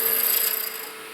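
Roughing gouge held at a skew-like angle, shearing a spinning wooden pen blank on a wood lathe: a steady, close, bright rasping scrape lasting about a second, easing slightly toward the end.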